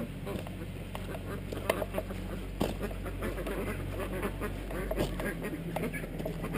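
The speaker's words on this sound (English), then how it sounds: "In here, there's ducks." Ducks quack repeatedly on a farm, several near and overlapping calls in an irregular rhythm, with outdoor noise and a person talking in the background.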